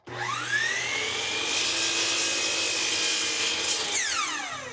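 Saw cutting through a planed wood board to length, two inches trimmed off the end for a bathroom vanity cabinet; a steady, loud whining cut that rises quickly at the start, holds for about four seconds and winds down at the end.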